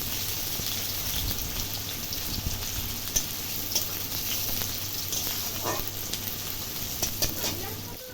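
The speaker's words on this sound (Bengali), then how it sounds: "তারপর কড়াইয়ে তেল দিয়ে আগে থেকে কেটে রাখা পেঁয়াজ কুচি দিয়ে দিয়েছি।" Chopped onions fry in oil in a wok with a continuous crackling sizzle, joined by occasional stirring scrapes and a low steady hum from the stove, with no one talking.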